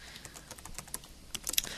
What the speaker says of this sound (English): My fingers fly across the keyboard.